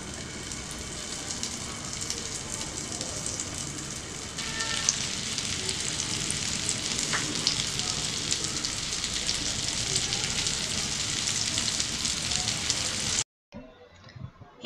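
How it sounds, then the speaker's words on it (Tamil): Cauliflower chicken patties frying in shallow oil, a steady dense sizzle and crackle that swells slightly as more patties go into the pan, then cuts off abruptly near the end. "இப்போ நம்ம மற்றதையும் வந்து போட்டு பொரிச்சிக்கலாம்."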